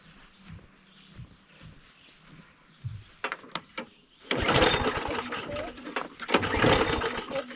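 A roadside lawnmower with a primer bulb is pull-started, with a few rattling pulls and sputters before the engine catches and runs loud and rough for several seconds, then falters, with a voice heard early on.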